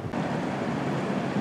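Steady engine and water rush from an Uber Boat riverboat on the Thames in London, a continuous close rumble with wind buffeting, no voices.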